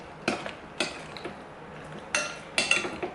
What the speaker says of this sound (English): I'm just going to grab a spoon. Give it a good stir.